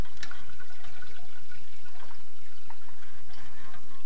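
Water pours and trickles from a tilted, cracked toilet bowl being drained during toilet installation work, a steady close splashing flow with small gurgles, no talking.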